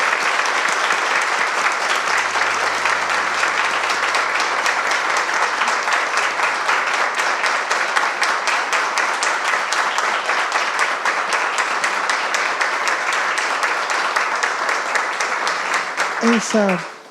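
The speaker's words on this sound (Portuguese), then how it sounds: "Eu vou pedir uma salva de palmas para a Eugênia" Sustained audience applause at a talk, a dense and even wash of many hands clapping for well over fifteen seconds before ending, with a brief voice at the very end.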